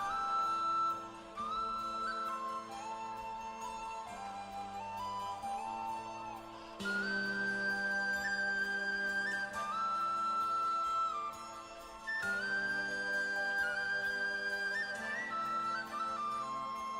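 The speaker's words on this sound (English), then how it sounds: "It's the tin whistle." Tin whistle carrying a bright sustained melody over a full band arrangement in the bridge of a song, long held notes stepping through phrases, loud and continuous.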